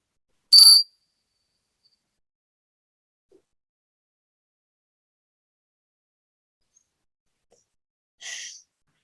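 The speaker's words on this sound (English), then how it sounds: "Just going to use my chimes to bring us in and out." Chimes ring twice in a quiet room during a healing session, a bright struck shimmer at the start and a softer one near the end, with near silence between.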